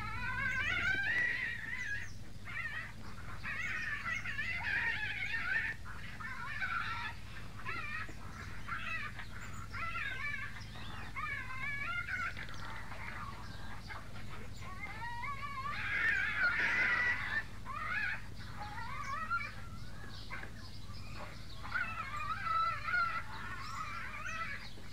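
Tasmanian devils call in a San Diego Zoo PC game, producing repeated harsh, screeching growls and yowls that rise and fall in rough bursts throughout, moderately loud against a low hum.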